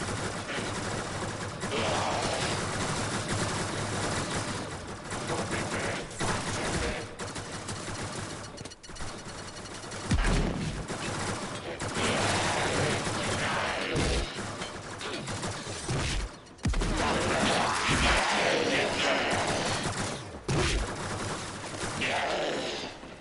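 Gunfire from the video game Warframe, a sustained, dense barrage of rapid shots, crashes and metallic impacts, loud and close, running continuously with brief dips throughout.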